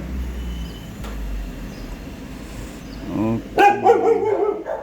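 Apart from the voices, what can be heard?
dog barking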